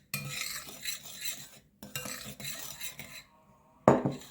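Flour and sugar being stirred together in a bowl, with repeated scraping and clinking strokes in two bursts separated by brief pauses, then a sharper knock near the end; no voices.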